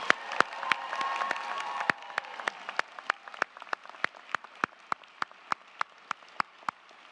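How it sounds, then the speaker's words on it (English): Audience applause at a 2024 Berkeley School of Education commencement. It starts as a full round of clapping, then thins into scattered single hand claps spaced at a fairly regular rhythm toward the end. "Let's give her one more round of applause."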